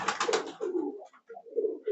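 High-flying pigeons coo nearby in a loft, in low, rolling throaty calls, a few repeated phrases with brief pauses between them.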